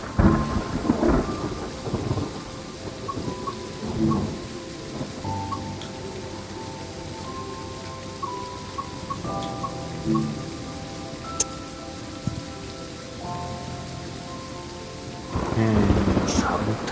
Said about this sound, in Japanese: えらい雷なんていうの。